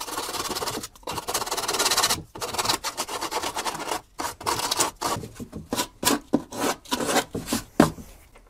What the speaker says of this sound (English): Sandpaper, just smooth out those edges.